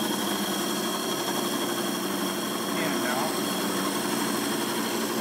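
A Highland Park lapidary core drill runs steadily while boring into a stone sphere preform in a drill jig, giving a constant loud motor whine and grinding hum, with someone talking briefly over it.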